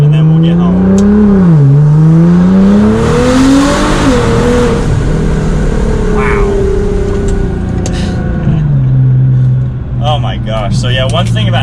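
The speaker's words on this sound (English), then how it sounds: "Alright, last acceleration and then we'll get home." A Nissan GT-R accelerates hard, its engine note climbing loudly in long sweeps with a brief dip as it shifts, then settling to a lower steady hum near the end.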